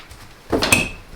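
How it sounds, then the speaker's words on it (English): A short wooden creak and scrape as a closet door swings open, with a brief squeak near the end, close by and otherwise quiet. "Should we open the door?"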